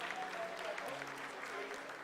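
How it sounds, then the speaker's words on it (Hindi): Sustained applause fills the ISRO mission control room during the Vikram lander's vertical descent phase of the 2023 Chandrayaan moon landing, a steady dense wash of clapping from many people throughout. "Lot of applause indicates that till now the performance has been nominal."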